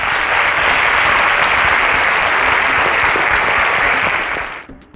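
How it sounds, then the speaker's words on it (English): Sustained, dense applause from an audience at a live stream event, loud and steady for several seconds before tapering off abruptly near the end. "A round of applause for Funke."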